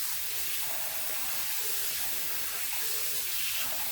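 A kitchen tap runs cold water steadily into a pan of cooked lasagna noodles, a continuous close hiss and splash with no talking.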